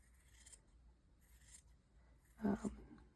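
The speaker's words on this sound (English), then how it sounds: "I'm going to trim this real quick" Scissors trim a long seam on a pair of sewn pants, a short crisp burst of cutting heard close and alone near the end, after faint rustling.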